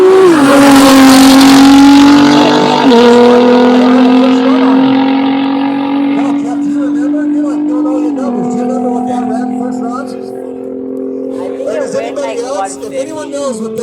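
A Liberty Walk Nissan GT-R running on E85 launches down a drag strip, its engine roaring loud and near before shifting gears and fading into the distance, with a crowd talking faintly underneath.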